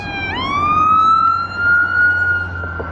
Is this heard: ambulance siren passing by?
yes